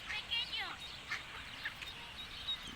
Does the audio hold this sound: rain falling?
no